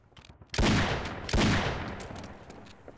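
Shotgun in Half-Life: Echoes fires twice in quick succession, two loud, close blasts under a second apart, each with a heavy boom that rings out and fades, preceded by faint clatter.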